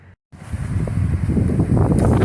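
Steady wind rushes and buffets across the microphone outdoors among cashew trees in Florida, a broad roar that swells after a brief dropout near the start.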